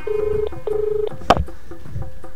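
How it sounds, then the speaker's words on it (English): Telephone call being placed: a two-tone ringback tone sounds twice in steady pulses, then a sharp click as the line connects, followed by faint lower tones, close and clear with no talk. "Here's my phone call to Kevin Bracken"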